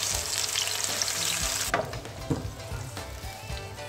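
Loud sizzling and crackling of an onion, black pepper, cumin, garlic and ginger paste frying in hot oil. It briefly calms, then continues with occasional spoon scrapes and stirring sounds.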